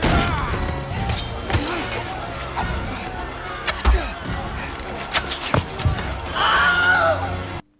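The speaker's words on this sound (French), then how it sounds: "Ce cri en fait n'est pas n'importe quel cri, c'est le cri de Willem" Film battle scene from Snow White and the Huntsman with horses neighing, hooves and clashing, and the stock Wilhelm scream rising near the end as a man falls, loud and cinematic amid the chaos.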